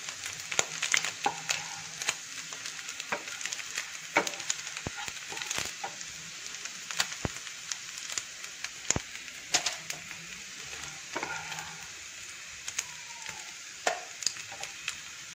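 Beef sizzling and crackling steadily in hot coconut oil in a pan, with dense, close frying hiss and scattered sharp pops throughout, no voices.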